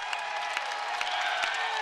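A basketball arena crowd at a Western Kentucky at Indiana State game cheers and applauds at the final buzzer, with a sustained roar punctuated by scattered sharper claps.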